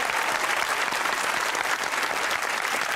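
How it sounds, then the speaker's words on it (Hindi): A studio audience on a Pakistani comedy talk show applauds, a steady, moderately loud wash of many hands clapping throughout, with no voices standing out. "अजमल के लिए तालियां होनी चाहिए"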